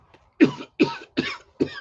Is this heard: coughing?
yes